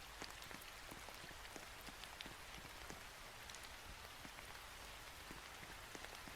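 Steady rain patters on a surface as a dense, even hiss with scattered sharper drops, faint and continuous with no voices.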